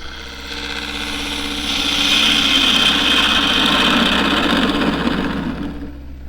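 A wood lathe spins a square dish blank while a 1/2 inch spindle gouge cuts it, giving a steady motor hum under a rough, hissing cutting noise that swells in the middle and eases off toward the end.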